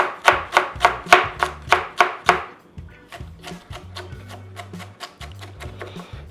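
A knife chops onion on a wooden board with about a dozen quick, crisp, evenly spaced strikes, close and loud. Softer, scattered cutting and rubbing sounds follow.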